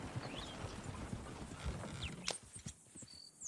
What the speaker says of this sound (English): Oh, shit, the horses! Damn horses!